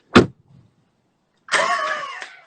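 A car door thumps shut, then after a short pause an engine cranks and starts, running with a steady mid-pitched hum for about a second; no one talks.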